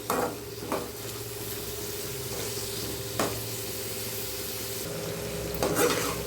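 Sautéing for chicken 65 thokku in a pan over medium heat, with a steady close sizzle and occasional scraping stirs and utensil taps against the pan, no talking.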